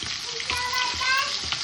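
Fish, pomfret or mackerel, frying on a hot pan over high gas flame, a close, continuous sizzle with brief crackling bursts.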